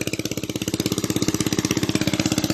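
A tandem hand tractor engine idles steadily close by, its fast even thumping pulses running without a break and no voices over it.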